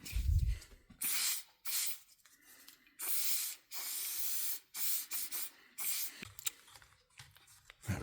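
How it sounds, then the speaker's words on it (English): Lubricant sprayed onto the gear selector seal of a Jaguar XJS V12 comes as a series of short, close hissing bursts separated by brief pauses, fairly quiet overall, with no talking. "I'm going to put a bit of lube on that actually"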